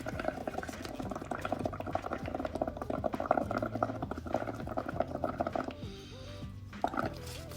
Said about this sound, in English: let's start blowing some bubbles and see how this green is going to be